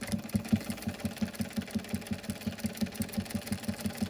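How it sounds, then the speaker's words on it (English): A sewing machine stitching a fabric face mask seam at a quarter-inch allowance, a fast, even mechanical chatter of needle strokes repeating steadily and close up. "we're gonna start stitching at 1/4 of an inch seam allowance"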